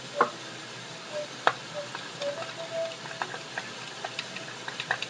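Quick light whisking in a pan during a breakfast cooking session, a run of faint ticking taps and scrapes at irregular spacing over a low sizzling background.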